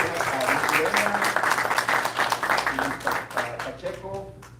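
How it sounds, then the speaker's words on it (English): Applause from an audience at a community meeting on downtown revival in Calexico, a broad patter of many hands that sounds moderately close, with talk and a low hum running beneath it before it thins toward the end. "I want to give them a round of applause"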